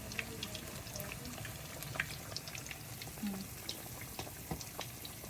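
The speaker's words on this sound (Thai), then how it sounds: "แล้วก็ทอดปลาสลิด" Steady oil sizzle and crackle of gourami fish frying in a pan, with faint popping and occasional clinks, heard up close.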